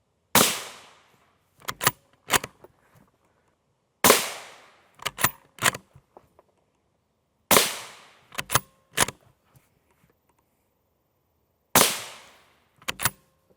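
Rifle firing M855 rounds at NIJ Level IV silicon carbide body armor, four groups of shots each led by a loud sharp report with a decaying tail and followed by two or three quicker cracks, at an outdoor range.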